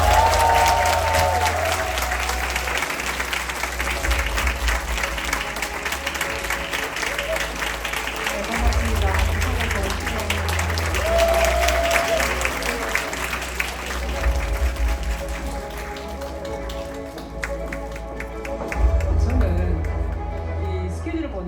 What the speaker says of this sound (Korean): 우리와 같은 박수와 큰 박수로 함께 맞이하도록 하겠습니다